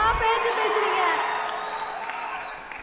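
Crowd of fans clapping and cheering at an award event for the actor Simbu, a loud burst of whoops and applause that swells at first and then slowly fades.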